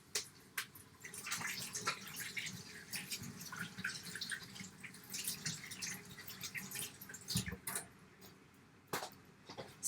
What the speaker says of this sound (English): So I'm going to wash mine.